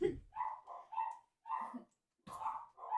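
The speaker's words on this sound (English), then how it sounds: "So the dogs are going nuts again." Dogs in a home bark after the doorbell rings, loosing a string of sharp, close barks and yips in short bursts with brief silent gaps between them.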